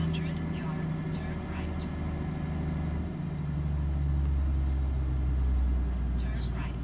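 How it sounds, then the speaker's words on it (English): A truck engine fan whirs in American Truck Simulator on a 3406B-powered 379, a steady low drone with a deeper rumble that swells midway, continuous and close while a voice talks over it. "Still have the engine fan on."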